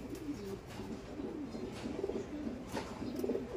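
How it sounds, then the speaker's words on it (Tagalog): Soft, low cooing of a pigeon or dove repeating over a muffled background. "So, ito yung isa nating ibon."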